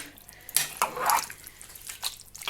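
Wet clinking and sloshing as a utensil stirs a zucchini and mushroom salad in a metal pot, a few scraping strokes close by with quiet gaps between.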